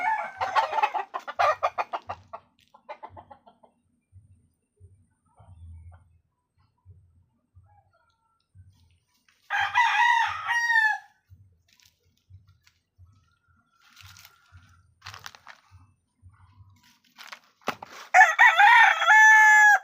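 Chickens cluck in soft repeated bursts while a rooster crows loudly nearby several times, separated by quiet stretches of low, rhythmic clucking.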